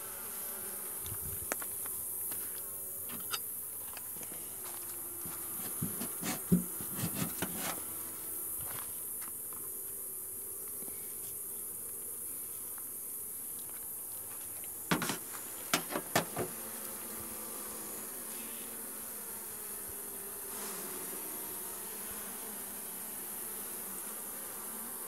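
Honeybees from a weak hive buzz in a faint, steady drone close by, broken by scattered handling knocks and clicks during the hive work.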